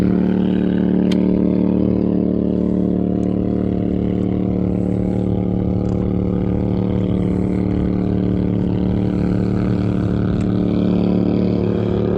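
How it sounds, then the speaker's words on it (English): A motorboat passes by on open water, a steady loud engine drone holding throughout with constant low harmonics, no voices over it. "Let that boat go by."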